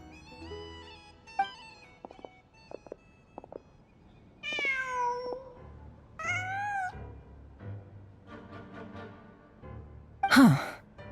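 A cat in Genshin Impact meows several times in drawn-out, rising and falling cries, the last one a sharp loud yowl, alone over a quiet game ambience.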